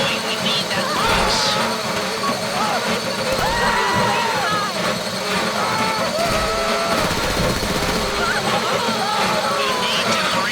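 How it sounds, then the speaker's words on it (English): A heist drill grinds into a safety deposit box during the Fleeca bank job in GTA Online, a loud, continuous mechanical whine with wavering tones over a dense rumble and background chatter. "How you doing with that drill?"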